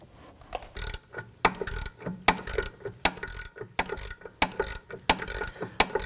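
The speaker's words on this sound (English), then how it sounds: "I'm going to use a deep socket in my ratchet to go ahead and get up and around this." A ratchet with a deep socket clicks in repeated quick bursts while loosening a 19mm caliper bracket bolt during rear brake work on a 2015-2024 Nissan Murano, close and sharp with short pauses between strokes.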